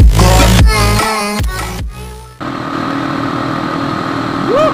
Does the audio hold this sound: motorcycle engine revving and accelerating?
yes